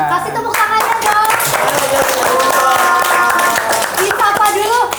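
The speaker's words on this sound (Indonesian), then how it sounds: "Kasih tepuk tangannya" An audience claps for a neurologist introduced at a talk on brain nutrition after stroke, clapping under talk and music with a steady loud wash of hands.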